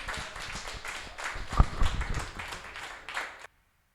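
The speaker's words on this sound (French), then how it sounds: "On l'applaudit." An audience in a televised singing show applauds a performer with brisk, mid-sized clapping and a sharp thump partway through, then stops abruptly into silence.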